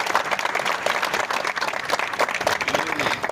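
A crowd of union supporters applauds union leaders, dense continuous clapping with cheering voices mixed in throughout.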